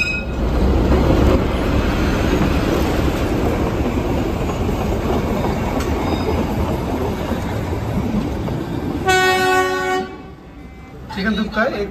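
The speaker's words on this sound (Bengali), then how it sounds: "এদিক দিয়ে এবার টয় ট্রেনটা আসবে শিলিগুড়ি যাওয়া" The Darjeeling toy train bound for Siliguri rumbles past close by with a loud, continuous roar, then a short tonal horn blast near the end.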